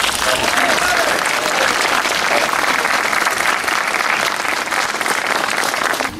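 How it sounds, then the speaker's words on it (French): Sustained, dense applause from a large crowd at an Armistice of 1918 commemoration ceremony fills the space, steady and loud throughout with a slight dip near the end. "je crois qu'un dernier applaudissement serait bienvenu"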